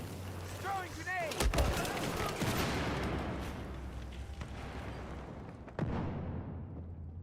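Grenade blast in Battlefield 4 on PS5 Pro, a sharp loud crack followed by a long rumbling explosion tail that fades out, with a second distant bang later, amid battlefield noise and chirping tones.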